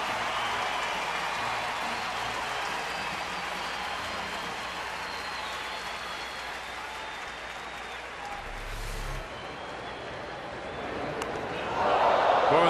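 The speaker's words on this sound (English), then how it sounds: "You can hear the crowd." Crowd noise at a baseball stadium during a Colorado at Arizona game, a steady murmuring roar of spectators with a commentator talking over it and a louder swell near the end.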